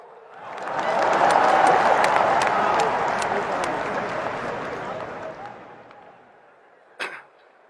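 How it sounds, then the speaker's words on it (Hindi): Audience applause and clapping at a gathering, a dense roar of hands that swells quickly, holds loud for several seconds, then fades out, followed by a single sharp knock near the end. "ठोको ताली"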